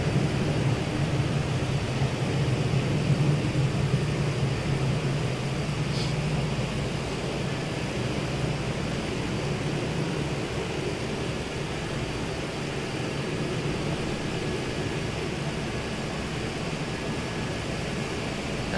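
Steady engine drone of a Viking CL-415 water bomber taxiing before takeoff at Crater Lake, a continuous low rumble with broadband noise holding level throughout, no voices.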